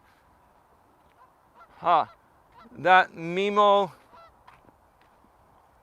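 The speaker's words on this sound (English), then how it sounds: "Could you folks hear those geese?" A few loud goose honks, one short then a longer drawn-out call, over a faint steady hum, with a brief spoken remark nearby.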